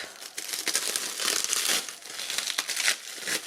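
Thin gold leaf foil crinkles and rustles continuously, close to the microphone, in quick irregular bursts with no voices.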